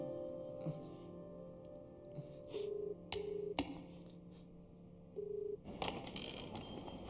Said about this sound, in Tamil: ஒரு ஃபோன் ஒன்று பண்ணிக்கிட்டுமா? ஸ்பீக்கரில் போட்டு பேசு.